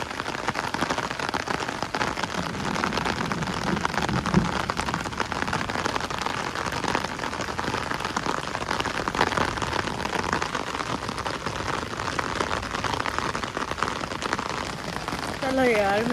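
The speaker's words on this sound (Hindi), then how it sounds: "बारिश भी काफ़ी तेज़ हो गई है" Heavy rain falls in Karachi as a dense, steady hiss of drops on hard surfaces, unbroken from start to finish, with faint voices now and then in the background.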